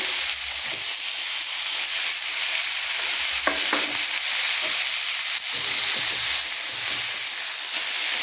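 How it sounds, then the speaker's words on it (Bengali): Diced potatoes and onions fry in oil in a pan for a curry, with a steady, loud sizzle and hiss throughout and occasional scrapes as they are stirred. "এবার আলুটার সাথে পেঁয়াজটা ভালো করে সুন্দর করে আমি ভেজে নেব"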